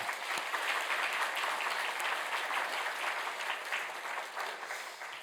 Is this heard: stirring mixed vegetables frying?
no